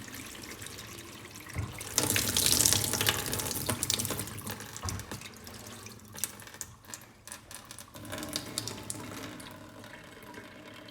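Water gushes hard from a pipe after a new deep well pump is hooked up, a loud steady rushing flow with splashing and surging that eases briefly and then swells again.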